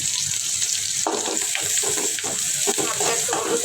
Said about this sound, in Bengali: মাছটা ভাজা ভাজা হয়ে গেছে